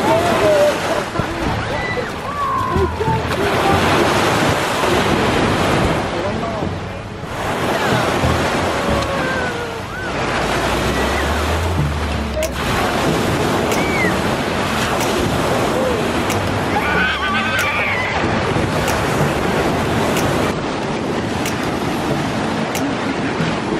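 Surf crashes and washes in steady swells on Santa Rosa Beach with heavy wind buffeting the microphone, and voices come and go over the roar.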